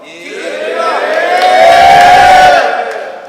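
A large crowd at a rap battle cheers and shouts loudly, swelling to a peak before easing off, with whoops and yells mixed into the roar.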